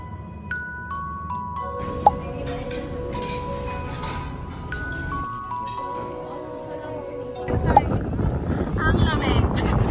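Strong, steady, cold wind in Iloilo rumbles against the microphone while voices talk, with a few tonal chimes or beeps scattered through and louder gusts near the end.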